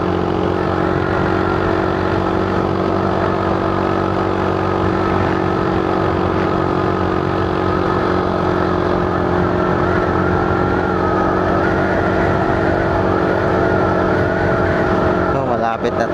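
Automatic scooter engine droning steadily while riding, a constant loud hum with wind rush, and someone talking over it.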